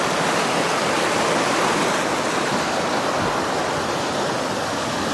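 A mountain torrent in the Clarée valley of the Hautes-Alpes rushes loud and constant beneath a footbridge, a dense roar of water filling every moment without pause or voices.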